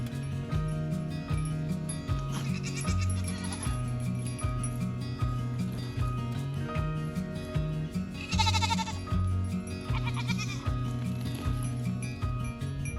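Goats bleat repeatedly on a farm alongside a goat recovering from an eye injury, several nasal cries rising over steady rhythmic clopping and background noise, fairly close, with no talk.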